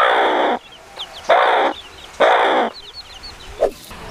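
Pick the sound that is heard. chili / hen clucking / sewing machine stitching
hen clucking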